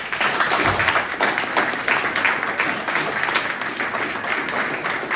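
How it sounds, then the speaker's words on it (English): Sustained audience applause at a PyData Lancaster tech talk, a dense, steady wash of clapping from a large crowd lasting throughout, loud and unbroken with no voices on top. "let's give them a round of applause."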